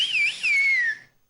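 A single loud whistle, blown as applause on a Tamil TV game show stage, rising, dipping and then gliding slowly downward for about a second before cutting off, with no talking over it.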